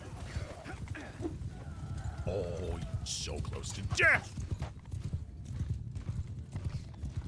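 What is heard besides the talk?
horses galloping and neighing in the video game Bannerlord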